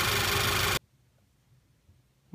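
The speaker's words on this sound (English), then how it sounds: "the engine's been running for a few minutes" A running 2011 VW GTI engine makes a loud, dense roar that cuts off abruptly after under a second, leaving near silence.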